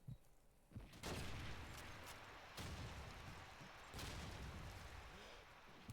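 Explosions and gunfire from Call of Duty 2 multiplayer, several heavy booms with rumbling tails in a noisy battle mix, faint and compressed, with a voice talking over parts of it.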